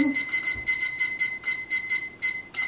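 A kitchen timer beeps steadily in repeated short double-pulses, loud and close, set while chicken brines for a baked chicken salad; no talking over it.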